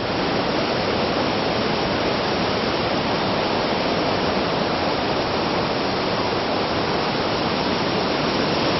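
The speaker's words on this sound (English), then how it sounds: "So the waterfall heads off down the mountainside." Waterfall at Edessa, Greece, pouring down a mountainside: a constant, dense rushing roar of falling water, loud and unbroken from start to finish with no other sounds.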